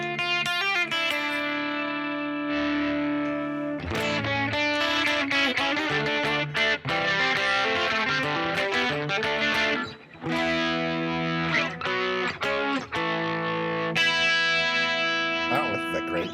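An electric guitar played through distortion and chorus effects rings out in sustained chords and riffs with short gaps, loud and close, with someone talking over parts of it.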